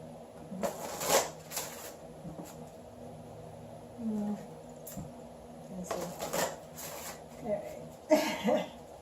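Psychic Tarot cards are shuffled in soft, papery bursts that come and go over several seconds, mixed with a few cough-like sounds and a person talking.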